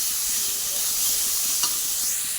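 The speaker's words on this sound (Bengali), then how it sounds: "মশলাটা দিয়ে দিলাম, এই যে একটুখানা মশলা। এটাকে ভালো করে কষিয়ে নেব," Ground spices with cumin seeds sautéing in oil in a pan for a thin tengra fish curry, a steady hissing sizzle with a faint stir and one brief scrape, close and without talk.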